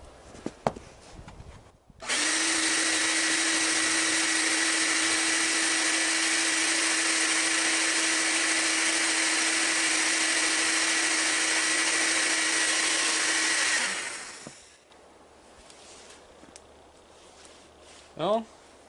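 A homemade forge, freshly modified with differential loading, roars to life after a click and blows with a loud, steady rushing hiss for about twelve seconds before cutting off, with faint voices and handling noises around it.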